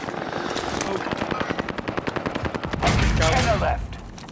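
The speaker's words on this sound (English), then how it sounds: "Taking fire!" Rapid automatic gunfire rattles in a video game battle, with a helicopter-like drone underneath. A fast, even train of loud shots is followed by a heavier burst and a rumble near the end.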